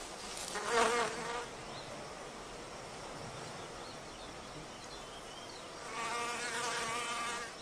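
A male wasp buzzes in flight around a wild orchid, the whine swelling near at the start, thinning to a faint hum, then rising close again near the end, with no voices.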